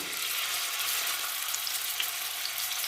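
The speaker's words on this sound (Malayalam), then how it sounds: "നമ്മൾ പാനിലോട്ട് എണ്ണ ഒഴിച്ചിട്ടുണ്ട് അപ്പം എണ്ണ ചൂടായി തുടങ്ങി നമുക്ക് ഓരോ പീസസ്സായിട്ട് ഫ്രൈ ചെയ്യാനായിട്ട് വെക്കാം" Chicken pieces fry in a little hot coconut oil in a pan, a loud, steady, close sizzle with faint pops and no talking.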